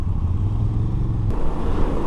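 A 2022 Moto Guzzi V85TT motorcycle engine lugs at about 2,000 RPM as the throttle rolls on, a loud low chugging drone that shifts and swells slightly partway through, with no talking.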